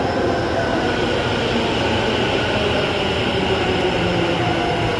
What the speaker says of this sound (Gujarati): જો આ જો મેટ્રો જાય.